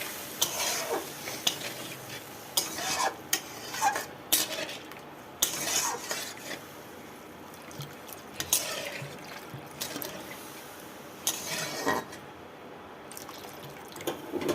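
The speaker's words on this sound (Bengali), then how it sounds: "আমি তরকারি ঝোলটা দিয়ে দিচ্ছি।" Curry gravy splashes into a pan and is stirred with a metal spoon: quiet scraping and clinking strokes with soft liquid slurps and a faint sizzle, recorded close without talk.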